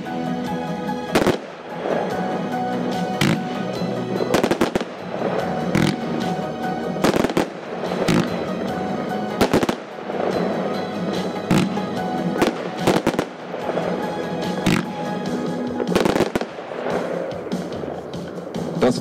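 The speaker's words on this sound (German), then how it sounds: "Weiter mit der Nummer 5, eine Fächerbatterie, 42 Schuss," A 42-shot, 25 mm Xplode fan battery of fireworks fires a rapid string of loud bangs and crackling bursts, near and continuous, with short gaps between volleys.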